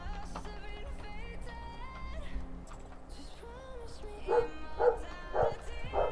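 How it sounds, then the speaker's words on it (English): A dog barks indoors in short bursts near the end, over steady background game music, the barks fairly close and moderately loud. "sorry for the dog barking"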